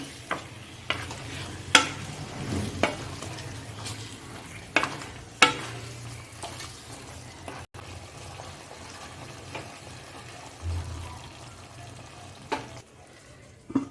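Chicken with yogurt fries over a high gas flame, a soft sizzle broken by several sharp spoon scrapes and clanks against the pan, close by with no talking.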